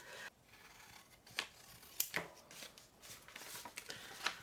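Scissors cutting paper for a Christmas card keepsake, quiet close snips and rustling in irregular bursts, with several sharp crisp cuts.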